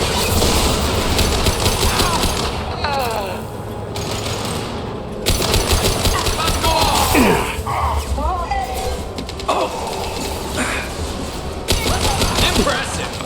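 Rapid, loud gunfire rattles through a Mass Effect 2 firefight as the enemy is shot down, with bursts repeating across the scene and voices talking over the shooting.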